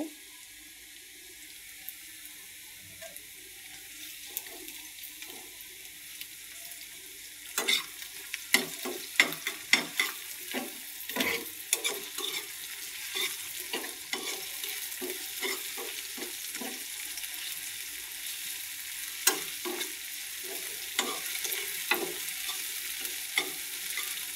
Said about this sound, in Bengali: মশলাগুলা ভাজা হয়ে গেছে